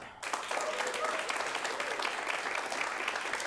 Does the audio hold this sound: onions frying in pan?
no